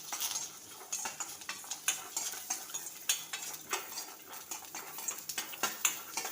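Fresh coconut roasting in a pan is stirred with a metal spoon, giving repeated sharp scrapes and clinks in an uneven rhythm over a faint sizzle, close up and with no talking.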